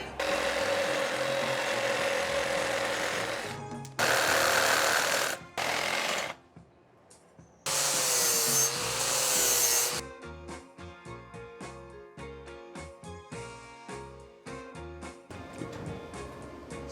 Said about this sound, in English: But right now we're gonna cut the manifold.